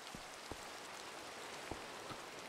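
Rain falling in Minecraft, a steady soft hiss of downpour with a few scattered louder drops, faint and continuous with no talk.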